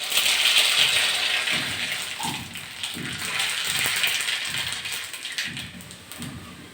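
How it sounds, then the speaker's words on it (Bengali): Black mustard seeds sizzle and crackle in hot oil, tempering a sour dal cooked with olives, a steady dense hiss with faint rhythmic thumps underneath. "যেহেতু আমি জলপাই দিয়ে ডাল রান্না করছি, টক ডাল, আমি কালো সর্ষে ফোড়ন দিচ্ছি।"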